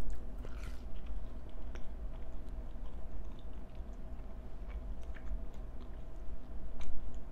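Someone chews a salty homemade mall-style pretzel dipped in baking soda, with soft, steady mouth sounds close to the mic and occasional small crunches, no talking.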